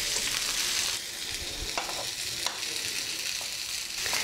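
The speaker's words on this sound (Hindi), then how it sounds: "पॉम्फ्रेट का एक साइड अब फ्राई हो गया है, अब हम इसे पलट देंगे और इसका दूसरा साइड भी फ्राई कर लेंगे" Pomfret fish fries on a tawa in a little oil with a continuous bright sizzle. A few soft clicks and scrapes come as the fish is handled.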